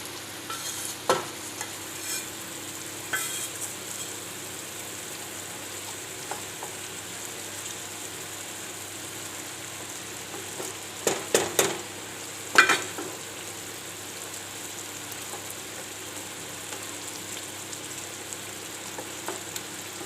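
Fried fish goes into a boiling fish curry with a continuous soft bubbling hiss, broken by a few spoon clinks and clustered scraping sounds around the middle, with no voices.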